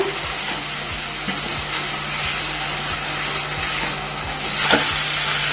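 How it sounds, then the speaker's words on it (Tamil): Tomato puree and ingredients for Punjabi chana masala sautéing in a pan give a steady, close sizzle and crackle, with soft stirring knocks now and then. "மிக்ஸ் பண்ணதுக்கு அப்புறம் இதையும் நல்லா வணக்கட்டுங்க."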